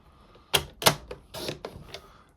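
A paper trimmer cuts a cardstock strip for a stepper card: several close, sharp sliding and clacking strokes in quick succession, with a brief pause before a last lighter click.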